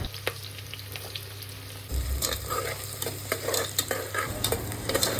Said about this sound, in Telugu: ఒక 2 మీడియం సైజ్ ఆనియన్స్ ముక్కలను కూడా సన్నగా చాప్ చేసుకొని దానిలో వేసుకోవాలి. అవి కూడా కొంచెం బాగా వేయించుకోవాలి.